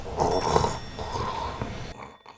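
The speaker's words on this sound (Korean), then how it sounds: "왜 이렇게 코를 골아?" A man snores loudly while asleep, long rasping breaths repeating in a steady rhythm close by, then a sudden drop to near silence.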